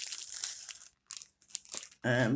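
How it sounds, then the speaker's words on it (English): Crinkling plastic packaging torn open in short bursts, crackly and close, with gaps between rustles and a voice speaking over part of it, ending in a sustained louder burst. "sorry for the crinkling"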